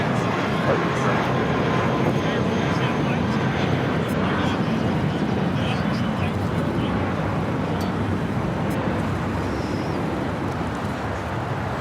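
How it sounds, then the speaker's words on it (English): A Polar Air Cargo Boeing 777 freighter taking off at LAX, a loud, steady jet engine roar filling the whole stretch with a voice faintly audible beneath it. "Got that Polar Air Cargo 777 freighter. Will be taking off here shortly."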